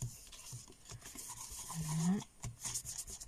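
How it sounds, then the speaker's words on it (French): A pencil eraser rubs back and forth over drawn lines on paper, close and soft scratchy strokes with one louder swipe, and a brief spoken word. "je viens gommer mes traits partout"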